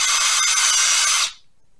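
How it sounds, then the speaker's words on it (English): A hand-held drill boring pilot holes through the metal housing of a vacuum pump gives a loud, steady high-pitched whine for a little over a second, then stops abruptly and leaves near silence. "drill these by hand right now to make some pilot holes"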